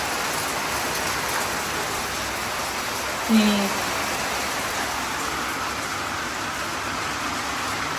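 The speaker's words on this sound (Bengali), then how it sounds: "বৃষ্টি পড়ে টাপর টুপুর শব্দ শোনা যাচ্ছে" Rain falls steadily in a dense, even wash of patter, with a brief faint sound partway through and no voices.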